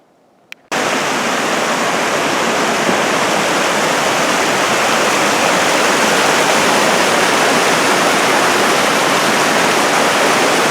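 Loud, steady rushing of Crystal Creek flowing beneath a bridge at Mount Rainier, a close, unbroken wash of water that starts abruptly after a brief quiet moment.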